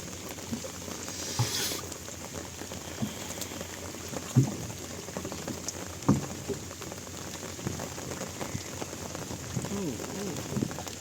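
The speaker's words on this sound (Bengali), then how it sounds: "তো দেখেন বন্ধুরা কত বৃষ্টি হচ্ছে আমাদের" Steady heavy rain patters on a surface by the Padma River at Dohar, a continuous wash of drops with a few louder knocks and splashes scattered through.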